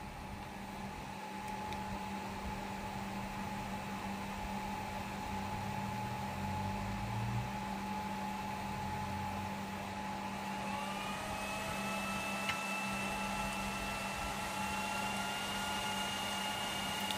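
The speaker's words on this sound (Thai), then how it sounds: "เดี๋ยวลองดูพัดลมอีกทีนึงว่าทำงานหรือเปล่า" The cooling fans of a silver 1400 W Grid Thai inverter, repaired after they never ran, spin up close with a steady whirring hum and electrical drone, and a rising whine joins in partway through.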